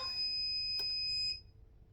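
A heat press timer beeps once, a short, bright electronic tone with a few steady harmonics, over a low background hum.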